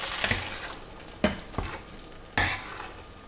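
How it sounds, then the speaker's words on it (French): Mexican soup with corn and red beans being stirred and heated in a pot over reduced heat, a handful of distinct spoon scrapes and knocks against a quiet bubbling sizzle, no talking. "On mélange, on fait chauffer tout ça."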